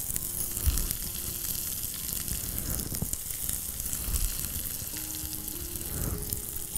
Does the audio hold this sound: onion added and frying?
yes